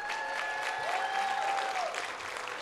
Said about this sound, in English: I just want to give yourself a round of applause.